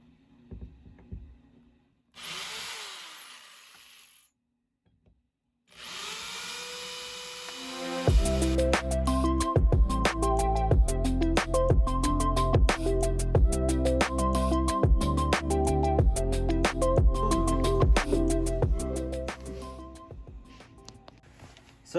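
Power tool cutting through sheet metal on the body of a Promaster van, a harsh, continuous grinding buzz with rapid chattering pulses, loud and close, following a brief spin-up and pause.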